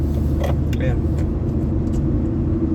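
Steady low engine rumble and road noise inside a car stuck in traffic, continuous and fairly loud, with a few faint clicks and rattles over the drone.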